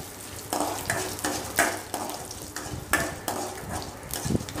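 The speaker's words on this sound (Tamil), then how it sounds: "இது நல்லா கோல்டன் ப்ரௌன் ஆகிற வரைக்கும் நம்ம இதை வந்து வறுத்துக்கலாம்." Chana dal and urad dal roasting in oil in a pan, a continuous sizzle broken by repeated spoon strokes scraping and clinking against the pan, close and moderately loud.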